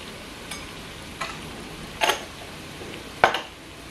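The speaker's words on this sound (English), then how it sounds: "And I give it a stir." Curry being stirred in a cooking pot, with a few separate scraping, clinking strokes of a utensil against the pot spaced over a low background, no voices.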